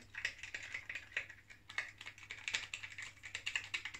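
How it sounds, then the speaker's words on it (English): A cheap $7 razor rattles close by in quick, uneven clicking bursts, a light, dry clatter repeating steadily over a faint low hum. "I hate that rattling."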